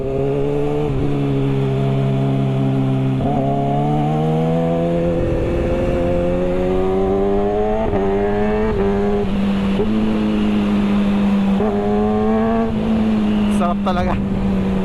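An inline-four motorcycle engine drones steadily while riding, the pitch climbing and dropping through repeated gear shifts, loud and close, with a rider talking over it now and then.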